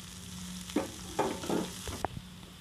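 Onions sautéing with curry leaves in a pan for spicy paniyaram, with a handful of distinct spoon scrapes and stirring strokes over a soft background sizzle, close by.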